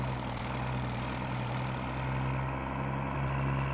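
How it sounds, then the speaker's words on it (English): Ford 1976 HighBoy truck in SnowRunner, its engine holding a loud, steady low rumble with a droning hum that stays even throughout. "Let's have a little rev here."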